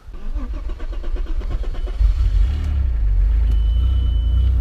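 An Audi A4 3.0 V6 with newly replaced catalytic converters cranks with a rapid rhythmic starter whir, catches and settles into a steady, loud, low idle rumble up close. A faint electronic tone sounds near the end.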